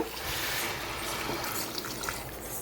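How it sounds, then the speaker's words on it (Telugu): Water pours into fried rice in a cooking pot for mutton biryani, a steady close rushing splash that runs for a couple of seconds and fades slightly toward the end. "ఇప్పుడు వాటర్ వేసేస్తాను."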